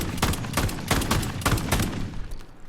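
Rapid-fire blasts from an AA-12 automatic shotgun in Call of Duty: Modern Warfare, about six loud evenly spaced booms in quick succession with a dense, clattering game mix underneath and no speech.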